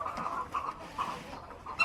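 Chickens clucking in a cage-free poultry house's nest box area, several soft repeated clucks and murmurs close by, steady and unaccompanied by talk.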